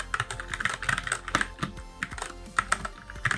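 Fast, steady typing on a Keychron K6 mechanical keyboard fitted with Gateron Brown switches, a dense close-up clatter of tactile keystrokes with a few louder strikes, and no voices.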